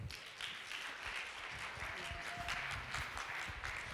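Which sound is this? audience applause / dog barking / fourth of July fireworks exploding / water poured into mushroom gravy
audience applause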